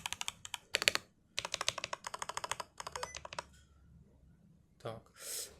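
Mechanical keyboard switches on a budget HATOR Icefall Mecha keyboard clatter in quick typing bursts, close and crisp, with short pauses between runs and a brief voice near the end.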